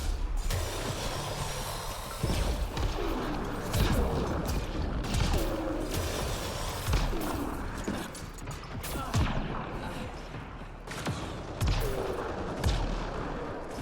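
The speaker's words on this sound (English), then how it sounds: "I heard all those explosions" Explosions and gunfire echo through a Mass Effect Andromeda multiplayer match, including frag grenade blasts, as a run of heavy booming thuds and crackling bursts under a constant rumble of battle.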